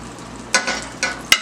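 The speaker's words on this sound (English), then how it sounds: "Put a little bit of butter, not a lot of butter, in the pan with the olive oil." Butter and olive oil in a heating pan, a soft steady hiss broken by a few sharp sputtering crackles and pops, close by with no talk.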